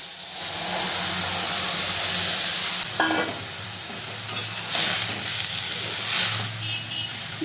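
Boiled vegetables drop into hot oil tempered with black cumin for a vegetarian lau shak dish, setting off a loud, steady sizzle with intermittent clinks and scrapes of a spatula stirring the pan.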